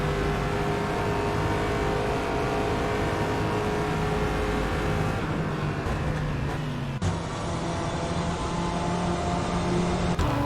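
A front-engined race car with a longitudinally mounted engine, a Ricardo six-speed sequential paddle-shift gearbox and about 500 horsepower, driven in a sim racing game. Its engine drones steadily and loudly throughout, with a sudden shift in tone partway through.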